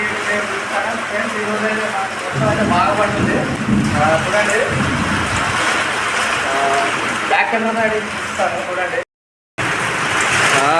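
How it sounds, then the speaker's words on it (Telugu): Heavy rain pours steadily with gusts of wind, while people talk over the downpour; a brief dropout cuts the sound near the end. "ఎదురుగాలతో అయితే చాలా భారీ వర్షమే పడుతుంది"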